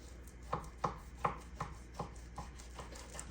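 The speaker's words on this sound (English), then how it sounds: "So it looks like I'm cutting these about 5/8 of an inch thick" A knife slices a chuck roll of beef into steaks about five-eighths of an inch thick, eight or so soft, evenly spaced thuds on a board, quiet and close, gradually fading.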